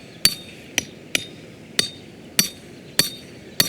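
A hammer drives an earth anchor hole into rocky ground while a coyote trap is being set: seven sharp, ringing metallic strikes at an uneven pace, close and loud, with quiet between blows and no talking.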